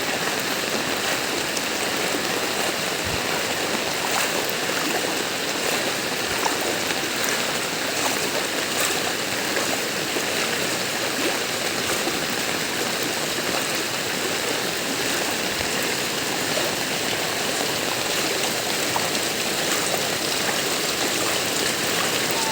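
Deep floodwater rushing steadily through a street in Hulong Duhat, Malabon, after Typhoon Krising, a constant broad wash of moving water that stays loud and unbroken throughout with no voices.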